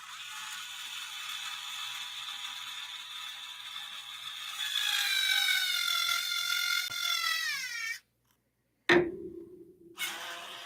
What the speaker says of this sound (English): Hold on the other end with my nut driver.